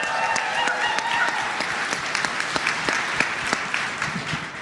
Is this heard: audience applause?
yes